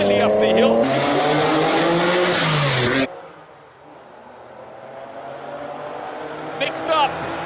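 A classic car at the Speed Classic hill climb event in Cape Town revs loudly nearby with engine tone shifting, then drops away abruptly to a fainter distant engine as it climbs, with a commentator speaking over it.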